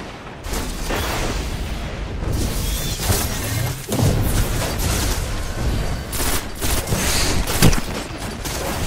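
Grenade blast and dense gunfire in Destiny multiplayer, a continuous loud barrage of shots and booms close up with a heavier burst near the end.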